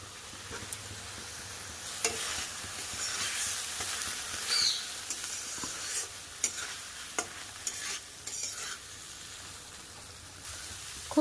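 Fried potatoes tossed into a spice paste being sautéed in a pan, a steady close sizzle and hiss broken by scraping stirs and occasional clinks, with no talking.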